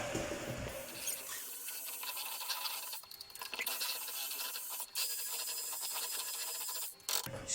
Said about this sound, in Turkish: şöyle bir tekrardan çırpacağım